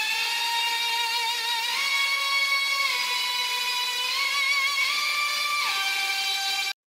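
Second layer of a melodic dubstep synth lead: a bright, buzzy sustained tone rich in harmonics, gliding between a few long held pitches with smooth slides, steady and loud on its own before stopping abruptly.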